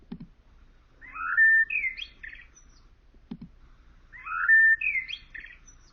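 Another blackbird sings two similar phrases, each opening with a low knock followed by a fluty, sliding whistle and a fluttering trill, repeated after a gap over faint background noise.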